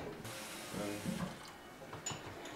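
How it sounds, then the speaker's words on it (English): Water trickles and splashes from a homemade plant watering system, fairly faint, in uneven spurts of flow over a quiet room, with no talking. "It's a watering system for the plants, so they get water."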